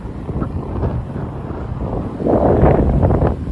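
Wind gusting through Midtown Manhattan on a Monday night, buffeting the microphone with a loud, rumbling low roar that swells stronger in the second half, with no talk.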